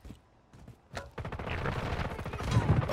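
Automatic gunfire from Call of Duty Warzone crackles in quick bursts after a short quiet stretch, dense and fairly loud toward the end, with no speech over it.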